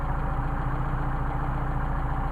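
A Mercedes 190SL engine with Solex carburetors idles close by, a steady low throbbing rumble whose speed wavers slightly as it hunts around a low idle; no one speaks.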